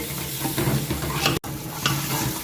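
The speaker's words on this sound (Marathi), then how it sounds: "गॅस थोडासा कमी करून हे तेल सुटेपर्यंत भाजायचं" Masala roasts in oil in a pan on a gas stove for Kolhapuri white rassa, giving a steady close sizzle and frying crackle with scraping stirs, broken by one very short dropout.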